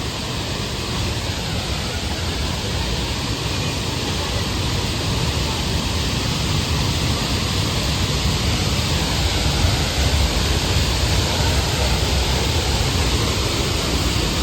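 Water gushes strongly down the waterfall at Sanaghagara, a dense, steady roar that fills the whole stretch at an even, loud level with no pauses or talk.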